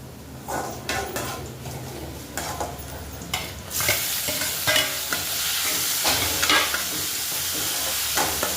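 Tomatoes sauté with dark-browned onions in a pan, giving a steady close sizzle with scraping and stirring strokes throughout, growing brighter and louder partway through.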